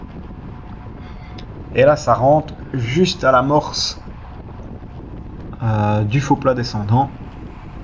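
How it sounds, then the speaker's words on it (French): Crosswind buffets the microphone during a fast bicycle road race at over 50 km/h, a steady rushing roar running under a voice talking in bursts. "On a vraiment le vent de côté."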